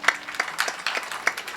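A small group at a Marathi kirtan gathering gives a brief, sparse round of clapping for the sound system crew, individual claps distinct and fairly quiet over just over a second.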